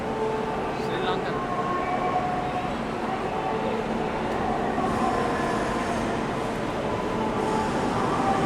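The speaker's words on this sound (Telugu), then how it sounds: "మన ట్రైన్ అయితే అరైవ్ అవుతుందండి ప్లాట్ఫామ్ నెంబర్ 10కి" A Bhubaneshwar Pune SF Express pulling into platform 10, led by a WAP7 electric locomotive, with a steady, fairly loud rumble of rolling stock throughout and a faint voice in the background.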